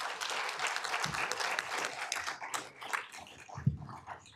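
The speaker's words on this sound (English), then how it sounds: "Let's give them a great round of applause." Audience at a public task force meeting gives panelists a sustained round of clapping, steady and fairly dense throughout, with a few louder individual claps standing out.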